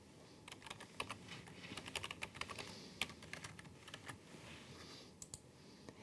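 Rapid, uneven keystrokes clatter on a computer keyboard, a few sharper taps standing out, close by and steady for several seconds.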